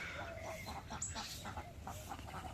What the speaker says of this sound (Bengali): তো সকালবেলা হাঁসগুলো ছেড়ে দিলাম,